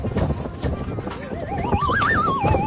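A voice imitates blowing wind with a rising and falling, wavering whoosh sung out over a couple of seconds, following plain talk.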